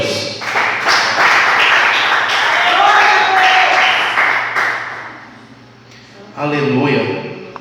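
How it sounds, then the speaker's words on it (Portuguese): Congregation applauding for Jesus during a church service, a dense wash of clapping that swells loud, dips briefly near the end, then resumes, with voices and music mixed in. "E as palmas para Jesus."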